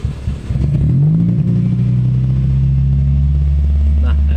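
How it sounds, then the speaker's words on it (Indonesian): A Toyota Vios with an unstable idle cranks and fires, then its engine surges up and holds a loud, steady high rev close by, with a brief clatter at the start. "Nah ini kita coba starter untuk mesinnya"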